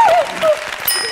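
Studio audience applause on an Azerbaijani evening game show, clapping under a loud host's voice that talks over most of the short burst.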